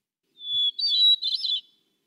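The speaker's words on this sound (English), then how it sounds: "Some songs are flute-like, such as that of a hermit thrush" A hermit thrush sings a single clear, flute-like phrase, a high sustained whistle followed by quicker fluttering notes, about a second and a half long and alone.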